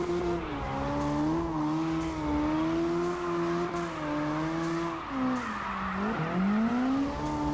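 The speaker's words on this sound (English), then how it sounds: "So when you hear the engine limiter goes high" In the CarX Drift Racing video game, a car engine holds a high, steady rev near the limiter while tires squeal continuously through a drift, the pitch dipping and rising as the throttle eases around the six-second mark.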